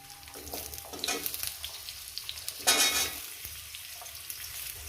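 Potatoes fry with spices in a pan, a crackling sizzle that swells sharply as ingredients go in, with spatula stirring and scraping, near and moderately quiet, no talking.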